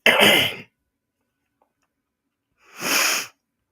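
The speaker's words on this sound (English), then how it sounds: "I know you guys can hear me like coughing." Two sharp, forceful bursts, a cough or sneeze at the start and another about two and a half seconds later, with silence between.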